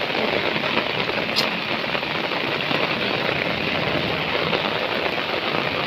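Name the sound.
rain falling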